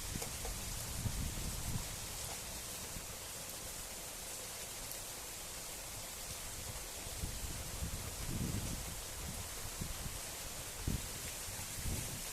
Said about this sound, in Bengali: কি পরিমাণ বৃষ্টিটা হচ্ছে দেখো।